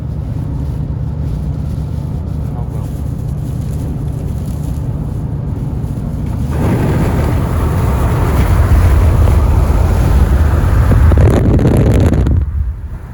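Strong wind buffets a car, its steady rumble swelling into a loud, close roar as the window is rolled down partway through, then dropping off sharply near the end.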